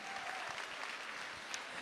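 A concert audience gives a singer and his band a burst of steady, dense clapping, heard at moderate distance without any voices over it.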